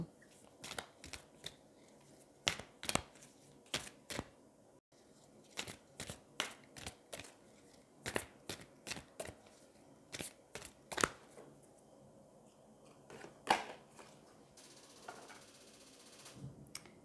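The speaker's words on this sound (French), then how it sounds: "on va aller prendre une carte du Shadows and Light pour essayer d'en savoir un peu plus" Shadows and Light oracle cards being handled and shuffled to draw one, giving a run of crisp, close card flicks and riffles in irregular bursts, quiet between them, with no talking.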